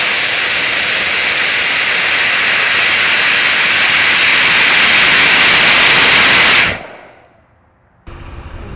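A potassium nitrate and sugar propellant motor in a PVC casing fires through a blast tube, giving a loud, steady roaring hiss that holds for nearly seven seconds before cutting off abruptly, then a quieter background hiss.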